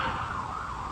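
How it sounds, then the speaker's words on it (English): A loud emergency siren wails steadily, filling the whole moment with no voices. "Sorry about the sirens."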